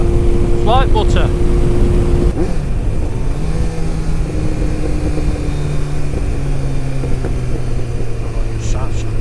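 A Honda CBF 1000 motorcycle engine hums steadily while riding on the road, a near, even drone that shifts pitch slightly as speed changes, with wind noise and a voice heard over it.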